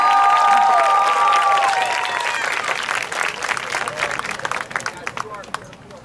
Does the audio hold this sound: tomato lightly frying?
no